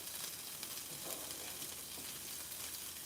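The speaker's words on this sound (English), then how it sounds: "So what I'm gonna do is fry the rice on this side." Rice fries in a pan for a Mexican stir fry with a soft, continuous sizzle, faint and distant, steady throughout with no talk.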